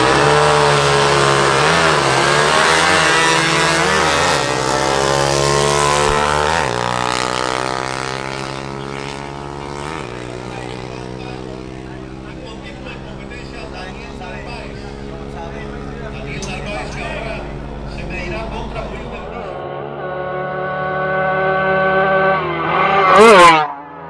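Motorcycles at a drag race, including a Suzuki AX, Yamaha DT and Pulsar NS200, rev and accelerate with rising engine tones, a loud burst of revving near the end, under an announcer's commentary.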